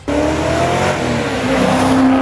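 A Ford Falcon XB coupe muscle car with a rebuilt engine revs loud and close, a sustained throaty roar with a strong droning tone and tire-squeal-like edge, no talk over it.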